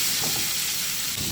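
Koi fish fry in hot oil with tomato paste in a pan, a dense continuous hiss and sizzle up close, heard alone for a brief moment.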